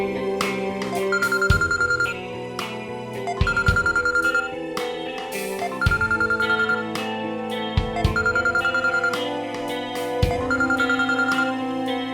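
A telephone rings repeatedly in a steady electronic pattern over a soft background musical drone, several ring bursts spaced evenly through the stretch, with no talking.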